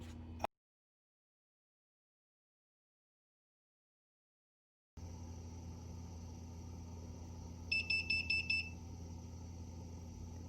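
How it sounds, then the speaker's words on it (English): A sous vide cooker beeps its temperature alert when the water gets close to temperature, a quick run of about five short, sharp beeps over a steady low hum after a stretch of silence. "It will alert us when it gets close"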